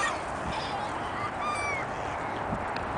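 Seagulls and ducks call together by a frozen lake, a busy cluster of honking, squawking cries at moderate distance over continuous outdoor background noise.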